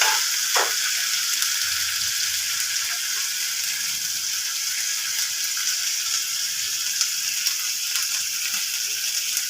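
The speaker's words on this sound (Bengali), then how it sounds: "মশলাটা কষিয়ে নিচ্ছি আস্তে আস্তে।" Spice paste (masala) for a red fish curry frying slowly in a pan, giving a continuous, even hiss of sizzling oil close by, with occasional faint stirring scrapes and no talk.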